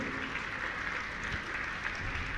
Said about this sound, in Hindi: मैं चाहूँगा आप जोरदार ताली बजाकर उनका सम्मान करें।